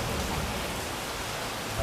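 Heavy rain falls steadily, a broad, even hiss of drops hitting surfaces with no breaks, fairly close and moderately loud, and no one speaks over it.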